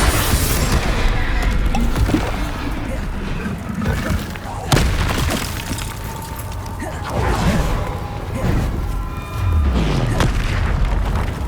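Confringo spell explosions in the Hogwarts Legacy video game, a dense barrage of loud booms and crashing blasts with spell effects, continuous and close throughout the clip, with a voice shouting spell names over the action.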